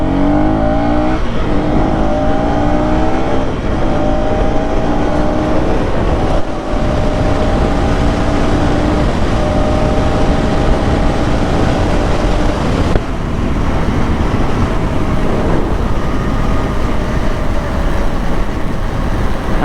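A 2025 KTM Duke 250 Gen-3 motorcycle accelerates hard on an open road, its engine note loud and close, rising through gears with brief shift dips and constant wind roar throughout.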